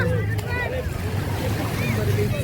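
Sea waves washing onto a beach near Dwarka: a steady low wash of surf with wind buffeting the microphone, close and continuous, while people talk over it.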